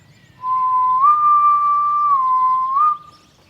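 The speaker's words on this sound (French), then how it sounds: "Alors pourquoi vous sifflez tout le temps?" A person whistles one long sustained note that holds steady, lifts slightly in the middle and drops back before ending, loud and close with no talk around it.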